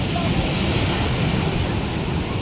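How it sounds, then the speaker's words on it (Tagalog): Big ocean waves crashing at Mabato Beach, a continuous loud roar of surf mixed with wind buffeting the microphone, with no clear breaks. "Grabe oh, ang lalaki ng alon."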